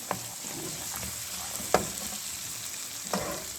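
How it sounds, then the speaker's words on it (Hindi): Peas are tipped into cooked chicken frying in a pan, a soft steady sizzle broken by a few sharp stirring clinks and scrapes, fairly quiet, with no speech. "सबसे पहले हम लोग मटर है वो इसके अंदर ऐड करूँगी मैं"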